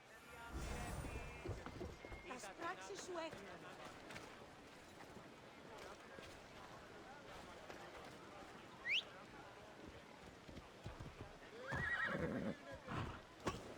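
A horse in Assassin's Creed Odyssey whinnies loudly at the start, then clip-clop hooves and ambient game sounds follow, with a brief bird-like chirp and a rider's short spoken urging late on.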